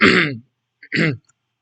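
Two harsh throat-clearing coughs close by, the first longer and the second shorter after a brief pause.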